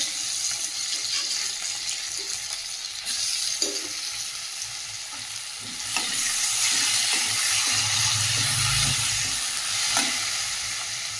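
Chopped tomato goes into hot oil with onions already fried until browned, giving a steady close sizzle with stirring scrapes that swells louder in the second half, with no talking.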